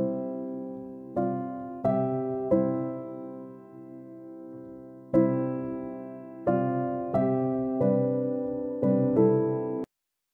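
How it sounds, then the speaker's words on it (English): Verve felt piano from Cubase 12 playing soft, muted chords, about ten spaced strikes that each ring and decay before the next, close and quiet, ending in silence. "But it's a felt piano at its core"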